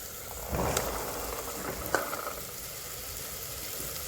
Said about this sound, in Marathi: आता आपण वाटाणे टाकून घेऊ त्याच्यामध्ये